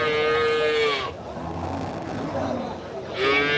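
Cattle at the Melur cattle market give two loud, drawn-out moos, one at the start and another at the end, with market noise and talk in between.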